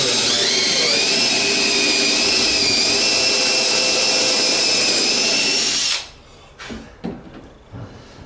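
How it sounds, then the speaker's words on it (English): A power drill drills down through a seat, whining loudly and steadily for about six seconds, then stops, followed by a few faint knocks and handling sounds. "So I'm just going to drill down through"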